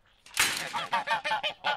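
Poultry in a henhouse gives a loud burst of honking squawks followed by a rapid series of repeated nasal calls, close and with no voices.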